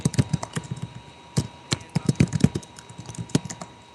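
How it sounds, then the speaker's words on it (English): Computer keyboard typing, a quick irregular run of key clicks at close range, sounding alone without any talk. "I can't hear over typing."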